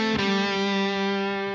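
Electric guitar with distortion plays a note from a riff: a sharp pick attack then a changed note sustaining loud and close, slowly fading, played alone.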